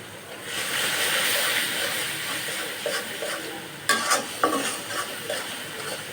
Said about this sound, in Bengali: সামান্য পরিমাণে পানি দিয়ে দেবো যাতে মশলাটা কষাতে পারি